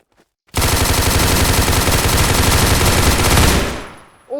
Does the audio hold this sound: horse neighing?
no